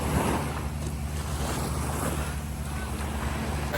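Waves and boat motors at Long Beach on Phi Phi Island, a continuous wash of surf and wind with a low steady engine drone underneath, fairly close and with no clear talk.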